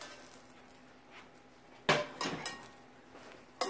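Shishito peppers are tossed in a lightly oiled pan, giving a few sharp clattering knocks of peppers against metal over a quiet background.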